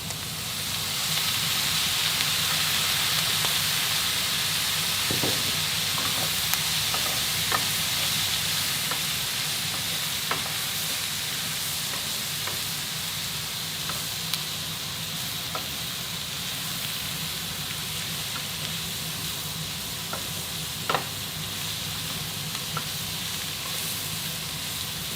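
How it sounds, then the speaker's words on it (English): Loud, continuous sizzling as soy sauce hits a hot wok of Chinese twice-cooked pork, a dense frying hiss with scattered crackles and pops throughout and no talking. "You add soy sauce. You will hear some noise."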